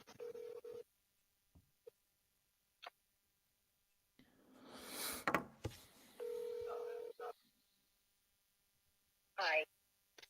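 An outgoing telephone call rings back in two steady tone bursts, faint and thin over a quiet line, with keypad tones, a rustle and a brief voice between them.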